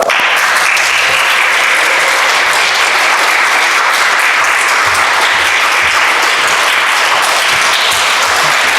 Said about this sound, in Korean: 우리 목사님 오실 때 박수로 환영하겠습니다